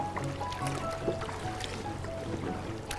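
A kayak paddles along a rock face in Bon Echo Provincial Park, Ontario, with soft, close water swishes and drips under gentle, steady background wash.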